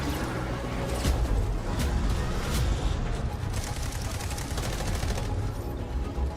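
Dense automatic gunfire crackles in the Delta Force video game, with rapid overlapping bursts and heavier booms forming a loud, continuous battle din.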